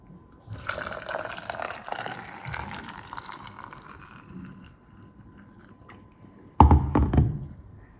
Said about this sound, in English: you want to pour some hot water all over this